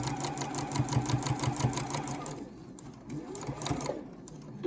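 A sewing machine stitches fabric for a face mask, its needle chattering in a fast, even rhythm up close before it stops and a quieter pause with small handling sounds follows.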